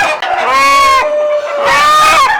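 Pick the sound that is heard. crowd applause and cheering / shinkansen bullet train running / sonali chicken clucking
sonali chicken clucking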